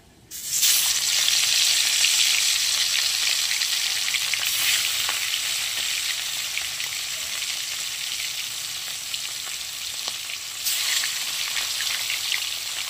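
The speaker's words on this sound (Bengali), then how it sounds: "এরকম করে প্রত্যেক কটা মাছ আমরা ভেজে নেব" Catla fish pieces dropped into hot mustard oil in a kadai, a sudden loud burst of sizzling that settles into a steady crackling fry, flaring again briefly near the end.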